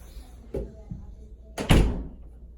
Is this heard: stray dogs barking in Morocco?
no